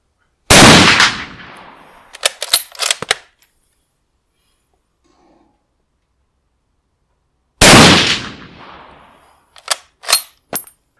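Two loud, close shots from a G98 bolt-action sniper rifle ring out several seconds apart. Each is followed by a quick series of sharp metallic clicks and clacks, with silence between them.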